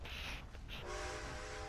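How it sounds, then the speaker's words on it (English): A steam train in the game Red Dead Redemption 2 Online chugs steadily, its engine rumbling while a horn or whistle tone sounds, with no talking. "I'm driving the train!"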